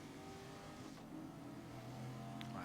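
A race car engine revs steadily in the racing game GRID, a loud continuous drone with a sustained pitch and slight rise near the end, with no voices over it.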